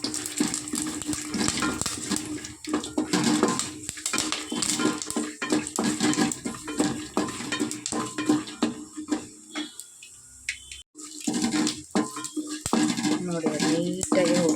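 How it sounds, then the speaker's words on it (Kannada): Peanuts roast in a pan with steady scraping and rattling as they are stirred, a continuous close clatter with a short pause near the end, while someone talks over it. "ಹಾಕ್ಕೊಂಡು ಚೆನ್ನಾಗಿ ಕಡಲೆಕಾಯಿ ಬೀಜನ ಹುರ್ಕೊಳ್ಬೇಕು."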